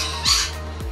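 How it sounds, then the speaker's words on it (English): A bird near Cairns in tropical Queensland lets out harsh, raspy squawks, one loud burst followed by a shorter second call, with steady background noise. "Sounds like a really unhappy bird."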